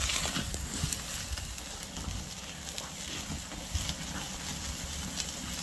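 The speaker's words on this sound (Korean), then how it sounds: "바람이 엄청 셉니다 지금." Strong wind gusting outdoors at a mountain campfire cookout, a steady broadband roar with rumbling low buffeting across the whole stretch, and no speech over it.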